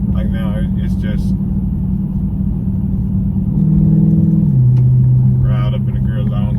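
A car with a mid muffler delete exhaust pulls hard in track mode, its engine drone holding steady and then rising in pitch as it revs higher in gear, loud and close inside the cabin.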